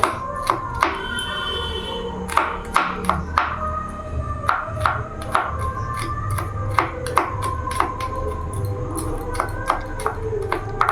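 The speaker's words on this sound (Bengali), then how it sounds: "এইভাবে আদাটাকেও কেটে নেব" Knife chopping ginger finely on a board, a steady run of quick, sharp taps at close range, loud and irregular, with a soft voice faintly in the background.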